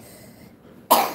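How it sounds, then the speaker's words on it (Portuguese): A single sharp cough from a child with the flu, sudden and fairly loud, following a moment of near quiet. "E ainda tá bem gripado, tá tossindo"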